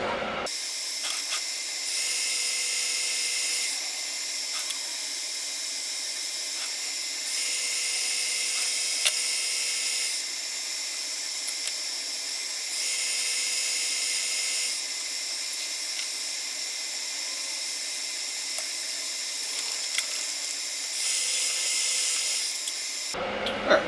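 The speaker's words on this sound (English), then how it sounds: "we will just start the polishing process" Rotary tool polishing a carbon fiber ring, a continuous high-pitched whine with slight rises and dips in pitch, running steadily throughout.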